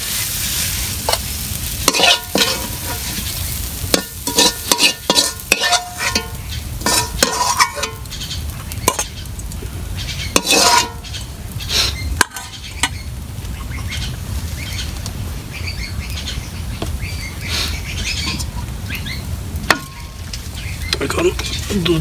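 Fried leafy greens stirred in a pan, with repeated scraping and clattering strokes in irregular bursts over a low, ongoing sizzle, fairly close.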